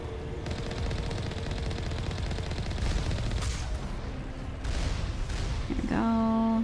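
Sustained rapid weapon fire in Mass Effect Legendary Edition while destroying turrets: a dense, continuous rattling barrage that swells partway through, then gives way to short electronic tones at the end.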